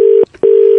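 A telephone disconnect tone after a call is cut: a steady mid-pitched electronic beep, a short silent gap, then the same beep again, loud and close.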